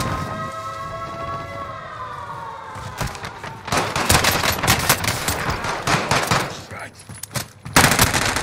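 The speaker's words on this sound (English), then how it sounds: "Buddy's got a fucking machine gun already." Rapid machine gun fire crackles in a Call of Duty Warzone Resurgence duos match, a sustained burst of loud automatic shots following a rising siren-like tone.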